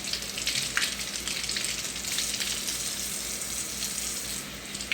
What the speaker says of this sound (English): I'm going to rinse all of this off.